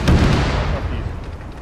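In a tank-battle video game, an anti-tank rocket launches and explodes as one loud, deep boom that rolls off into a fading rumble over a second and a half.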